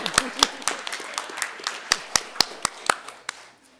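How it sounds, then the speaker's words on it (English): Scattered applause from a small group at a school board meeting, with irregular individual claps spread over a few seconds, fairly close, and some speech mixed in. "but we applaud you. Bravo."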